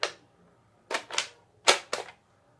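Sharp plastic ratchet clicks from a modded Nerf Kronos blaster, a single click followed by two quick pairs of snappy mechanical clacks in a quiet room.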